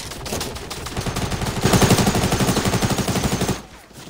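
Rapid automatic gunfire in Fortnite, a fast steady stream of loud close shots building in intensity before cutting off near the end.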